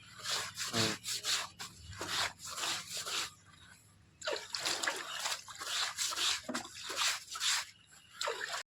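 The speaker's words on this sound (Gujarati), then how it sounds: "કપડાં ધોવાનું ચાલુ કરી દીધું છે" Clothes being washed by hand outdoors in a monsoon season yard, heard as repeated wet rubbing and scrubbing strokes in an irregular rhythm, close and fairly loud, with occasional splashes and drips of water.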